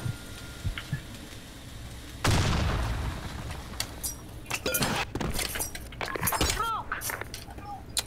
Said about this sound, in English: Woah, suddenly a shot eh.